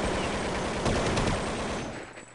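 Rapid bursts of automatic gunfire in a video game during a 2012 esports tournament match, crackling in quick succession, loud and continuous, fading slightly at the end.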